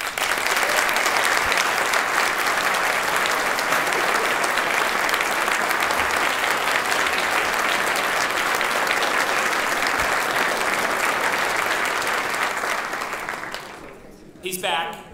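Sustained applause from a large conference audience greeting Secretary Shaun Donovan at the NCRC 2013 Conference, loud and steady for about thirteen seconds before tapering off abruptly.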